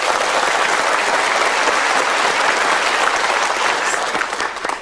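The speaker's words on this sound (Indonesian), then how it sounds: "kita berikan tepuk tangan dulu" A large studio audience at a motivational talk show breaks into sustained, loud applause, a thick continuous roar of many hands that holds steady for several seconds before starting to thin at the end.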